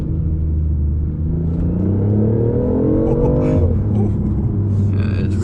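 A 2019 BMW i8 Coupé accelerates hard from inside the cabin, a loud, deep engine drone rising steadily in pitch as it pulls, then easing briefly before building again.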